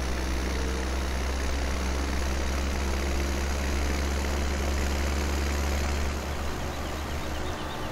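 A tractor engine in the video game Farming Simulator 17 runs steadily, spraying a field: a loud, dense, constant low drone with no changes in pace and no voices.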